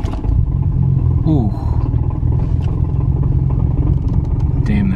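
A Nissan Skyline R33 GT-R with a Tomei 2.8 stroker kit drives off, its engine rumbling loud and close and rising through revs with a brief whistling sweep, while a man makes a short exclamation.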